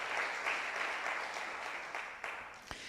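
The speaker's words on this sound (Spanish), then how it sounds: "aplauda el nombre del Señor" Church congregation clapping together during a Spanish-language sermon, a soft, even patter that sounds somewhat distant and holds steady, with a couple of sharper claps near the end.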